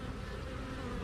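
A honeybee buzzes steadily and close during a fall hive mite check, a continuous insect drone with no pauses and no talking.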